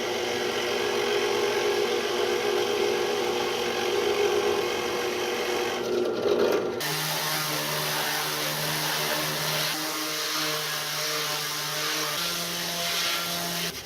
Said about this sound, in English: Figured I'd sand it a little bit